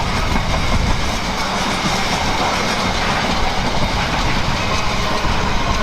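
A Freightliner freight train passes close by at a railway junction near Leamington, producing a loud, continuous roar of wagons and rumbling wheels with no talking.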